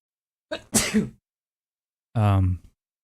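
A person sneezes: a short sharp intake and burst, then after a pause a second voiced sneeze or exclamation, close and fairly loud.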